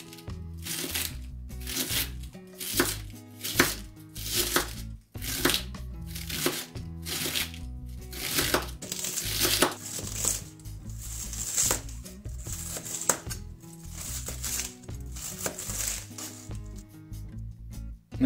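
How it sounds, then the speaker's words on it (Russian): Fresh cabbage being shredded with a knife on a board, a series of crisp, close chopping strokes in bursts with short pauses, heard alongside background music. "Разрезал капусту и нашинкую ее."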